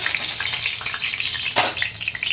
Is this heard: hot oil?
yes